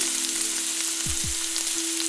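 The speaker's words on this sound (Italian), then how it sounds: "la verdura sta cuocendo come schioppetta" Vegetables for rösti sizzle in a pan with a steady, close hiss, crackling and light popping, and a pair of low knocks in the middle.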